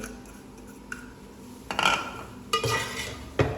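Chopped green chillies are stirred into samosa filling in a pan with the flame off, making soft scraping and a few sharper clinks of a spoon against metal, quiet and close.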